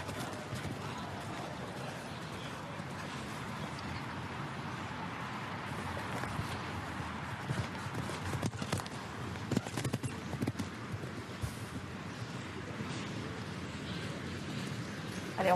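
Horse hoofbeats during a show jumping round at a Nations Cup event in St. Gallen, a steady clip-clop carried under continuous arena crowd noise and wind, moderately distant and fairly faint.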